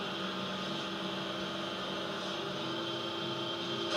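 A steady vehicle engine drone from an Unreal Engine 4 vehicle game demo running on Windows, continuous and fairly loud with no talking over it.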